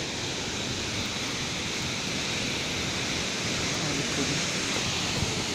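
Waterfall in the Barot valley, a steady, dense rush of falling water that fills the clip evenly from start to finish with no breaks or other sounds standing out.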